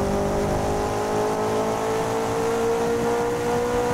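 Race car engine in the GRID 2019 racing game holding steady in fifth gear, a loud continuous drone at nearly constant pitch with a slight rise, running alone throughout.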